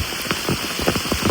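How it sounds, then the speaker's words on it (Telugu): Steady rain falls outdoors on hillside ground where saplings are being planted, a continuous close patter with scattered individual drops standing out through the short stretch. "ఫ్రెండ్స్, ఇంకా వర్షం అయితే పడుతుంది."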